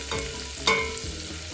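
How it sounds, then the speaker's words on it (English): Garlic browning in butter in a pan for a deep dish pizza sauce with oregano, a continuous close sizzle with a couple of stirring scrapes. "we've added our garlic and we're just going to brown that"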